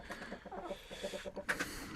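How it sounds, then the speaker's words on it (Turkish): Hens in a poultry coop cluck in short, soft repeated bursts, with a sharper, brighter call near the end, close and fairly quiet. "Tavuklar kaçtı şuradan."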